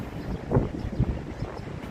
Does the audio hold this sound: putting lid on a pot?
no